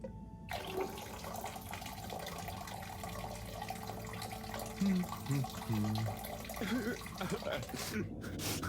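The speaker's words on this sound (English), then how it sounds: "Sounds like the shower is playing up." Shower water running in the video game Harold Halibut, a steady hiss of spray behind a door, with voices talking over it and a few thumps.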